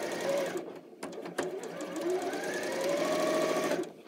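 Domestic sewing machine running with no thread loaded, a steady close whirring hum of the motor and rapid needle stitching, broken by a few brief pauses and ending abruptly.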